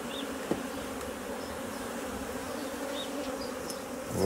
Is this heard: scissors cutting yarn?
no